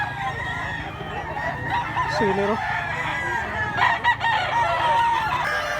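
Chickens and roosters at a farm in Mantalungon, Cebu, cluck and crow nearby with one short crow standing out, while a voice speaks faintly under the steady outdoor background.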